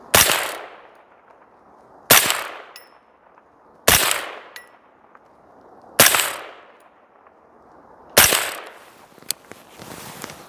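Five suppressed shots from an 18-inch .223 Wild rifle with an Anechoic anechoX titanium suppressor, sharp cracks roughly two seconds apart, each followed by a short ringing decay and faint metallic clinks outdoors.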